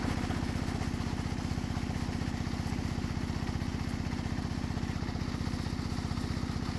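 A shallow irrigation pump engine runs inside a village machine house beside rice fields, a loud, close, steady low thumping drone with rapid even pulses and no break.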